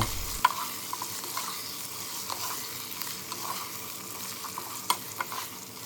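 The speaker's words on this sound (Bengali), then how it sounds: "মিনিট 2 কাঁচা মশলা কষিয়ে একে একে মাংসের টুকরোগুলো ছেড়ে দিব এবং ভালোভাবে মিশিয়ে নিব।" Chicken pieces sizzle as they are stirred through a Bengali-style raw spice paste with ginger for a Begmati chicken dish, a steady close frying hiss broken by occasional sharp spoon-on-pan clinks, no voices.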